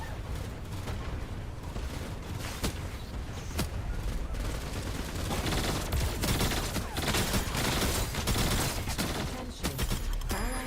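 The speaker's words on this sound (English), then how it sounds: "I like the firing sound." Continuous rapid gunfire in the Marvel Rivals video game, dense bursts of shots layered over loud game sound with scattered sharp impacts throughout.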